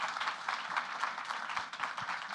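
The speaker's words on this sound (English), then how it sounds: "So let's give our panelists a round of applause" Audience applause for conference panelists at a digital content conference, a faint, steady wash of many hands clapping throughout, heard at a distance.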